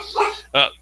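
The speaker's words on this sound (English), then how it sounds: "and that's just my dog." A pet dog gives two short barks close by, a brief yip followed by a fuller bark, during an online entrepreneur night, with a voice speaking around it.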